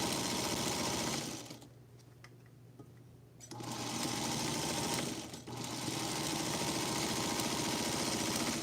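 Domestic sewing machine stitching Feathered Star quilt blocks, a loud, rapid mechanical chatter running close up, pausing twice briefly before resuming at a steady pace.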